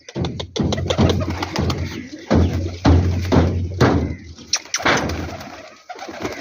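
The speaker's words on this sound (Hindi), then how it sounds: "डागरे कबूतर" Pigeons cooing close by in a repeated throaty rhythm, with several overlapping calls and some knocks and rustling around them.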